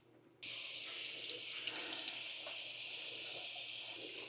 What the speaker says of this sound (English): run some warm water over it to thaw this broccoli